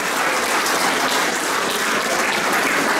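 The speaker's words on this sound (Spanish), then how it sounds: "Un fuerte aplauso para Orlando." A crowd at a 50th anniversary event for a 1974 championship claps hard and steadily, a thick unbroken wash of applause with no speech.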